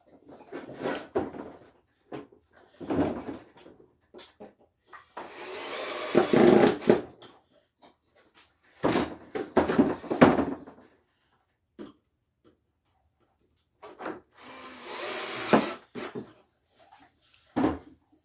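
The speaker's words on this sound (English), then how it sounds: "we're going to go ahead and put our 2 screws right down into the bottom of the base" Two screws are driven into the wooden base of a tiered garden planter. Short bursts of tool whirring alternate with knocks, clunks and handling noises on wood, with quiet gaps between.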